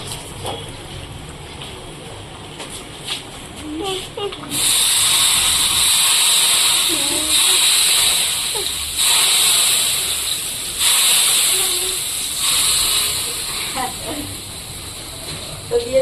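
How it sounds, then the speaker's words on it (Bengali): A spice tempering is poured into hot oil and bursts into a loud, rushing sizzle that swells in waves and holds, after quieter clinks and a faint voice at the start. "এবার আমি পোড়নটা ঢেলে দেবো"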